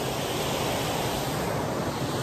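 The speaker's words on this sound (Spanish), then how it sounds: "también está esta hermosa cascada" Waterfall in a duck park in Bethlehem, Pennsylvania, a steady, dense roar of falling water that is loud and unbroken throughout, with no voices.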